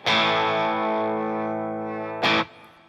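Electric guitar played through an Ogre Thunderclap distortion pedal: one loud, sustained distorted chord ringing out and slowly fading, followed by a brief second strum near the end.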